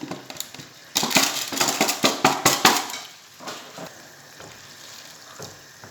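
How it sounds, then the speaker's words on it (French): Peas tipped into a hot pan for a fish paella, a sudden loud sizzle with rhythmic stirring scrapes and clatters for a couple of seconds, then a softer steady frying hiss. "J'ajoute également mes petits pois pour que tout cuise ensemble."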